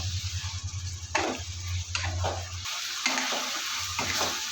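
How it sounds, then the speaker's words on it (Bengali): Chopped tomatoes sauté in hot oil, giving a close sizzle broken by several bursts of stirring and scraping in the pan, with a low hum that cuts out partway through. "এখানে আমি কেটে রাখা টমেটোগুলো দিয়ে দিয়ে দেবো দিয়ে এক মিনিট ভালো করে কষিয়ে নেবো"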